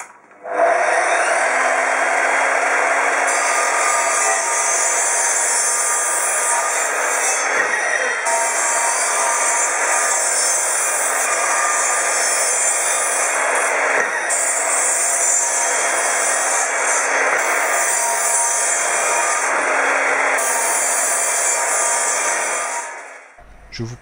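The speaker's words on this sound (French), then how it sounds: "J'ai commencé par découper à la bonne longueur toutes mes planches d'épicéa brutes" Rough spruce boards being cut to length in a woodworking shop, a loud continuous buzzing saw sound with steady rasping texture and brief dips between cuts, running for the whole stretch with no talk.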